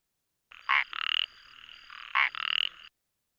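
A rubra frog gives two clear calls, each a short sharp note followed by a buzzing pulsed trill, close and isolated against silence.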